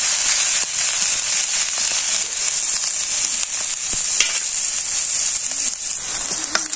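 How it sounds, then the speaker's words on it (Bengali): Home-grown chillies and spices fry in a pan in a village kitchen, producing a loud, continuous, close sizzle with occasional light stirring clicks scattered throughout. "ভালো করে ভাজে নিয়ে সব কিছু দিয়ে।"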